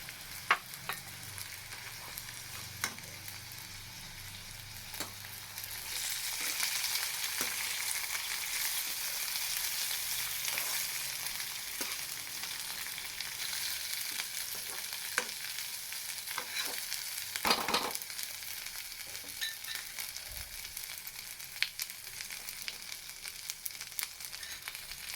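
Dry coconut and salt roast in a pan for garlic chutney, a steady soft sizzle running throughout with intermittent scraping and stirring clicks, close by and without talk.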